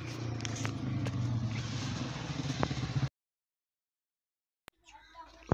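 A small F 170 4 hp diesel engine runs steadily at a shop in Punjab, Pakistan, a loud continuous chugging drone that cuts off abruptly into silence, followed by faint scattered sounds.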